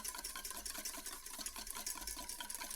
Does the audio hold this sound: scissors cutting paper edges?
no